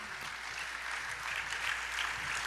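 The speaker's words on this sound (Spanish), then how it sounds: "Dale un aplauso al Señor." Church congregation applauding in a soft, distant, continuous patter of clapping lasting a couple of seconds, with no talk over it.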